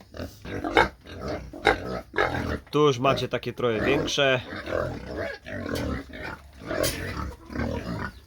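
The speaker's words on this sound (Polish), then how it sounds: "wam pokażę świnki" Pigs grunt and squeal close by, with a burst of high squealing in the middle, while someone talks over them throughout.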